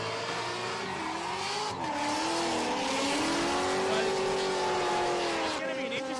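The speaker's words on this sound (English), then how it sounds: "you could hear Wiersma pedaling real hard through that transition." A drift car at a state drift series round revs hard through a transition, engine pitch rising and falling over a constant roar of squealing tires, loud and sustained, with commentary talk underneath.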